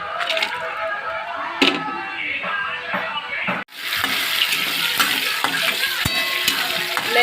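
Cashews, almonds, raisins and cardamom roast in two spoons of ghee, a close, continuous crackling sizzle that grows louder partway through, with stirring clinks and scrapes and no talking.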